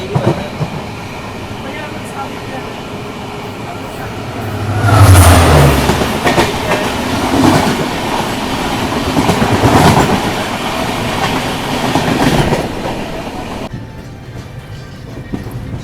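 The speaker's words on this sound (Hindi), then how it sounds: "अभी देखो सामने से आ रही है नारंगी अगरतला एक्सप्रेस।" Agartala Express passenger train passing at Guwahati, loud rumbling with clickety-clack wheel rhythm, a brief horn-like tone near the start of the pass, then fading slightly toward the end.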